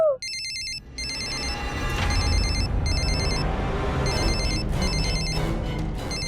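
An electronic telephone ringtone chirps in repeated short bursts of trilling beeps, fairly loud and close against a low background rumble, with no talking.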